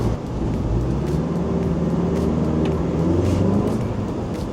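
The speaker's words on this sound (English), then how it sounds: "Been travelling now for about 2 hours 20 minutes, so it's about the same as it was on the big bus." A minibus drives from Bangkok to Pattaya, its engine droning with steady road noise and faint rattles heard from inside the cabin, with no talking.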